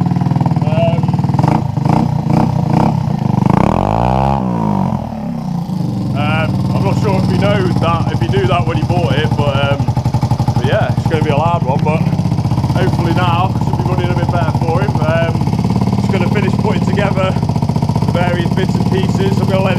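A GY6 scooter engine with a near-straight-pipe exhaust runs loud and steady throughout, with a brief rev swell early on, while someone talks over the engine noise.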